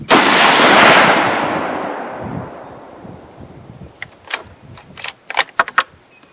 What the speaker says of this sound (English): now I'm going to go through and do my first 5-shot string here at 100 yards.